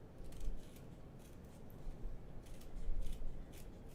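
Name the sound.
scissors cutting out a handbag pattern piece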